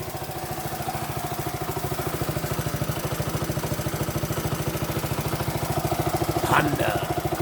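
A 1973 Honda Mini Trail 50cc motorcycle engine idles close by in a steady, rapid putter. Its even beat holds throughout, with a short clatter near the end.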